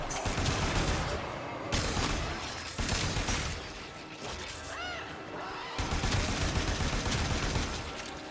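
Rapid bursts of gunfire from the video game Warframe, loud and dense in several volleys separated by brief pauses, with crashing impacts and a short electronic chime partway through.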